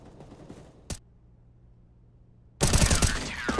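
Gunfire in the video game CS:GO, a single sharp shot, then near silence, then a loud burst of rapid shots at the end.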